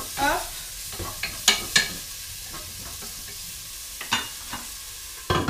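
Smoked sausages frying in a pan, a steady low sizzle under sharp scraping and clacking strokes of stirring, close and fairly loud with no speech.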